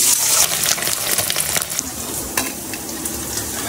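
Paneer pieces frying in a pan with a loud, steady crackling sizzle, close up, with occasional stirring bursts and no voices.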